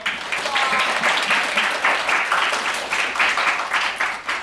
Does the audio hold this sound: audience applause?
yes